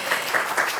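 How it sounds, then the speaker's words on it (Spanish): An audience at a formal institutional presentation claps briefly together, a short burst of close applause with no speech over it. "Un aplauso para él."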